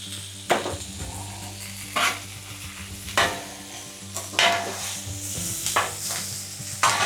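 Potatoes and onions frying on a griddle, a steady close sizzle punctuated by repeated scraping and stirring strokes of a spatula at irregular intervals.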